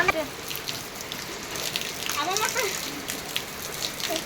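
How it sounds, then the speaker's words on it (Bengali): Steady rain falls and patters on surfaces around a home, a continuous hiss with faint voices in the background. "এটা বৃষ্টি"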